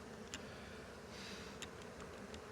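A swarm of honey bees buzzing, a faint steady hum with a few brief closer clicks and ticks.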